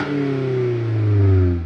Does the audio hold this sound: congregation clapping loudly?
no